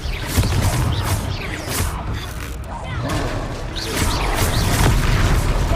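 Confringo blasting-curse explosions crack and boom in a Hogwarts Legacy duel, several loud bursts across a busy battle mix with whooshes and a voice shouting over them.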